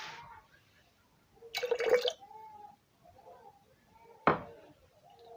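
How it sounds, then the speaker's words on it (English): Distilled water is poured into a homemade organic face toner mix: a short, close splashing pour, then quiet and a single sharp clack near the end. "So I'll be adding 20 mils of my distilled water now."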